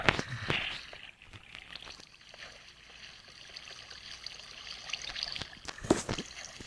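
Water trickles and burbles steadily through a mining survival video game, like a small stream running in a cave. The flow is soft with a few brighter splashy bursts near the start and end, and nobody speaks.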